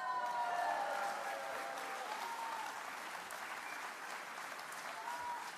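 An audience applauds a measure ending paper receipts, a soft, distant spread of clapping that starts a little stronger and then settles into a steady, dense patter.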